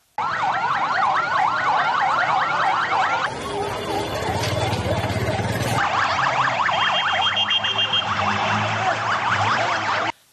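An ambulance siren wails loud and close for about ten seconds, rising and falling in rapid cycles, switching briefly to a harsher pattern midway before returning to the sweeping wail.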